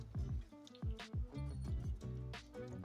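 Vinegar poured into jars of tomatoes being prepared for winter: a run of close liquid glugs and drips with bubbly rising tones, coming in uneven bursts, quiet and heard alone.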